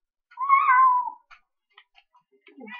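In the video game Minecraft, a Siamese cat gives one clear, drawn-out meow, followed by a few faint ticks and a brief, soft trailing chirp.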